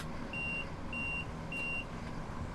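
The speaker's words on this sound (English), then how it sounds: "Oh, it's beeping at me again." Train cab alert in Train Sim World 3 on a Class 465 electric unit: three evenly spaced steady electronic beeps, each lasting about a third of a second, sounding over a constant rumbling cab and traction hum.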